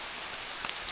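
Steady rain falling outdoors during a bikepacking trip, a close, even patter on surfaces with a few scattered louder drops and no talking.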